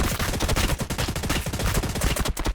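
Rapid, dense volley of unit gunfire in the video game Warhammer 40000 Battlesector, Astra Militarum against Tyranids, loud and continuous for a couple of seconds with no talking over it.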